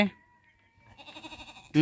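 A goat gives a short, wavering bleat close by, preceded by a faint tone and quiet gap, with bits of a person's voice at the start and end.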